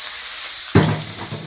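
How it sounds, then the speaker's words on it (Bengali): Small fish drop into hot oil in a pan on a low gas flame and set off a sudden loud sizzle, which then settles into a steady, close crackling hiss. "এখানে দেখুন তেলটা পুরো হিট হয়ে গেছে, গ্যাসটা কম করে দিলাম। কম করে দিয়ে এবার ঝুড়ির মাছগুলো আমি দিয়ে দিলাম।"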